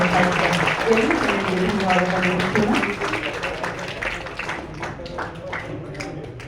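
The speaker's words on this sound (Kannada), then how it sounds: "ಜೋರು ಚಪ್ಪಾಳೆಯ ಮೂಲಕ ಕಾರ್ಯಕ್ರಮ" Loud audience applause at a Kannada cultural program where a portrait of poet Kuvempu is painted, a dense sustained clapping wash with voices and tones mixed in, easing slightly toward the end.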